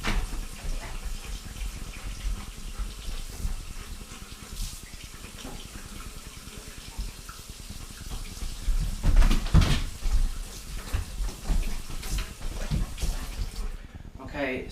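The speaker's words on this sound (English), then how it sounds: "I'm going to turn it on hot and keep it in the middle so it just goes right down the drain there." Hot water runs steadily from a kitchen sink tap straight down the drain, a continuous close hiss and splash that lasts throughout, with brief knocks and a voice talking over it.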